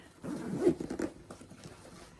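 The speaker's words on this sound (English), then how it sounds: "zip it up." A tool tote bag holding three cases is zipped shut in one quick, soft pull of about a second, followed by faint rustling of the fabric.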